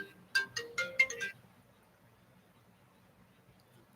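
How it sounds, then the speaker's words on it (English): A mobile phone ringtone plays an incoming-call tune: a short burst of bright, chiming melodic notes lasting about a second, fairly quiet, then silence. "who's calling my phone?"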